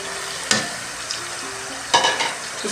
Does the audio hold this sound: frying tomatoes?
yes